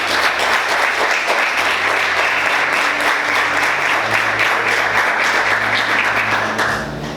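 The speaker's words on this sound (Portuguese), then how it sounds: "Você pode aplaudir o Senhor nessa manhã?" A church congregation applauds loudly and continuously in a dense, sustained wave of clapping that tapers slightly at the very end.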